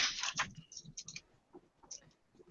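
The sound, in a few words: typing on a keyboard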